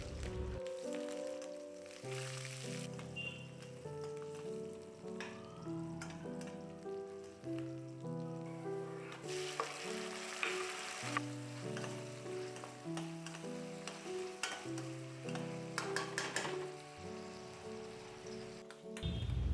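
Garlic, mustard seeds, curry leaves, green chillies, onion and tomato frying together in hot oil, giving a steady close sizzle with bursts of crackle and spitting throughout, with no talking.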